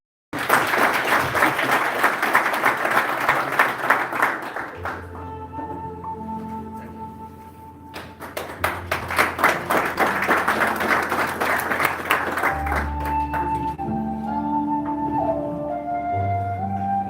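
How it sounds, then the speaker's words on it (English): Sustained applause from a sizable crowd fills the space, fading briefly before swelling again, with music tones entering beneath the clapping. "Another round of applause."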